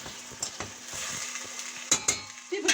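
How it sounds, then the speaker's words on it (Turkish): Minced meatballs are stirred in a pot in a sizzling mix, a steady close scraping and bubbling with a few sharper clinks of the spoon against the metal rim. "şöyle karıştırıyorum"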